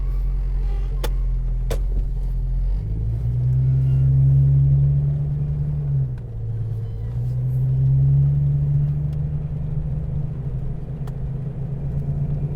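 A car drives toward a gas station, a steady low engine rumble from inside the cabin that rises and dips with a brief lull midway, and a couple of faint clicks early on.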